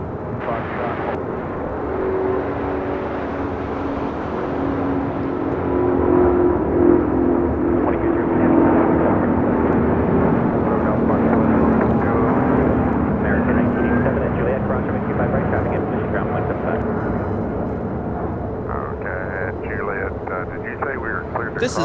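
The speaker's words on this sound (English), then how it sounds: "2202, taking off to Atlanta on an A350-900" A Delta Airlines Airbus A350-900 bound for Atlanta takes off from runway 25 right at LAX, a broad sustained jet roar swelling and holding, with distant rumble and faint background sounds throughout.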